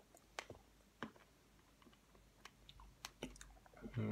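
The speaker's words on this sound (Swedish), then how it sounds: "Ska se om man kan bita på den här." Durian candy bitten and chewed up close, a sparse series of quiet crunchy clicks and soft mouth sounds, faint against near silence.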